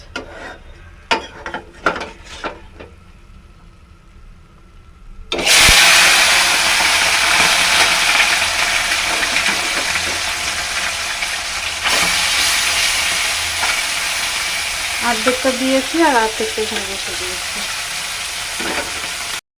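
Small fish frying in a pan with a loud, steady sizzle that starts suddenly after a quieter stretch of handling noises, continuing throughout with brief stirring or utensil sounds and a voice speaking lightly over it.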